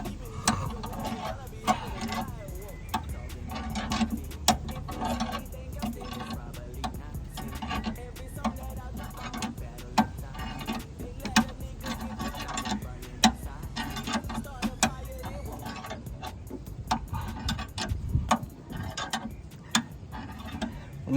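A car jack is cranked by hand to lift a car with a flat tire, repeated ratcheting clicks in an uneven rhythm, with occasional talk.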